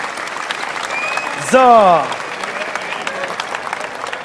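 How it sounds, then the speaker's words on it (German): Studio audience at a German Sunday-morning TV variety show applauds as two guests are welcomed, steady clapping running under a host's talk throughout, with a brief swell around the middle. "Das ist euer Applaus."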